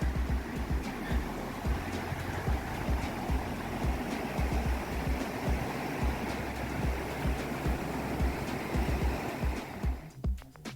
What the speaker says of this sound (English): The big Thompson River.